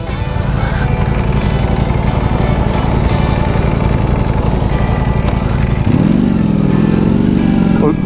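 A superbike's engine roars loudly and close by, holding a harsh, steady drone before a sharp rev climbs and sustains near the end.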